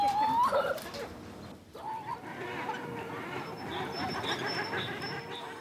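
A male fowl at a zoo gives a courtship display, with short cackling calls near the start followed by an ongoing murmur of fowl chatter and background commotion.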